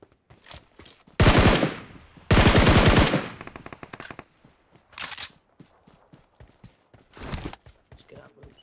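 Automatic gunfire in the mobile shooter PUBG Mobile: two loud, close, rapid bursts, then two shorter bursts later, separated by quieter game noise and footsteps.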